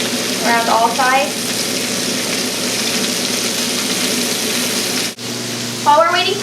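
Swedish meatballs frying in a pan, a steady loud sizzle and crackle throughout, with brief clinks or scraping of a utensil near the start and end.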